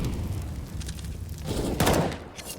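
AK rifle fire in a Counter-Strike match on Dust 2, a quick cluster of sharp cracks heard over a busy game soundscape and a commentator's voice.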